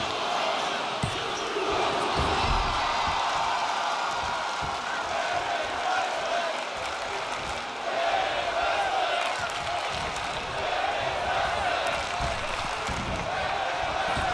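A crowd in the WWE 2K25 wrestling game cheers and chants in a steady, muffled roar that fills the arena, with thuds of in-ring action and a commentator talking over it.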